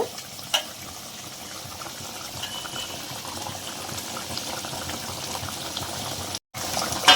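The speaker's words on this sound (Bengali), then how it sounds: "জলটা ফুটে গেছে, আমি এবার মাছগুলো দিয়ে দেব।" Curry water at a steady rolling boil for a chela fish curry, with a soft bubbling hiss and a few faint clicks as the fish go in, broken by one short gap of silence.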